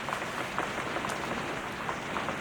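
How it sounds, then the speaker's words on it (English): Heavy rain pours down in a steady, dense hiss, close and unbroken, with scattered drops pattering on hard surfaces. "Ooh, it's pouring rain."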